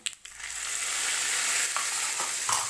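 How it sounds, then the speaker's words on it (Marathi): A sizzling tadka with curry leaves and dal is mixed into a chutney, starting with a few sharp clinks, then a loud, close, continuous hissing crackle with occasional scraping, no voices. "आता या चटणीमध्ये तडका मिक्स करून घ्यायचा आहे"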